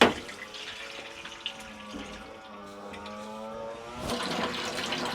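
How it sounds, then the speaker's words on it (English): Steady water flow with a hollow, resonant gurgle as a Navien tankless water heater drains into a bucket, continuous throughout and swelling slightly louder toward the end. "that is going to allow the water to drain into the bucket"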